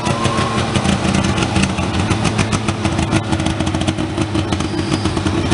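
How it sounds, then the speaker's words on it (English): A Saab Sonett's three-cylinder two-stroke engine runs loud and close at a car concours, giving a continuous buzzy, raspy drone with a busy rattling texture throughout. "It's a 2-stroke? 3-cylinder, 2-cycle."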